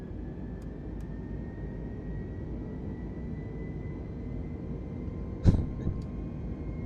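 Airbus A320neo cruising at altitude in Microsoft Flight Simulator 2020 over Serbia toward Sofia, a quiet, steady engine hum and airflow drone throughout, with one brief sharp click or thump near the end.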